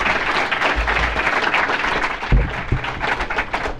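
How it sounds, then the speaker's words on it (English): An audience claps steadily for a few seconds, a dense, lively round of applause with no voices standing out. "Can we give Patrick a round of applause?"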